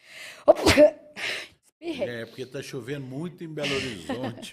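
One sharp, loud sneeze close to the microphone near the start, followed by a person talking in a room.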